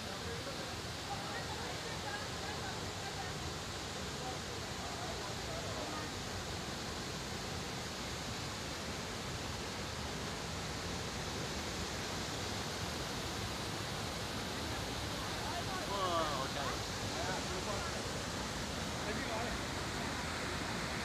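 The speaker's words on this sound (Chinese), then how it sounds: "哇，呢个就飞鸿瀑布啊，两层啊" The two-tiered Feihong waterfall in Jiexi sends up a continuous broadband rush of falling water, steady and fairly distant, with faint talk drifting in near the end.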